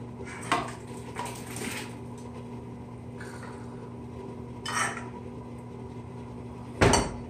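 Potatoes, perilla leaves, mushrooms, garlic and onion are tipped from one pot into another for gamjatang, with a few metallic clanks and knocks of pots spread over a quiet kitchen, the loudest coming at the end.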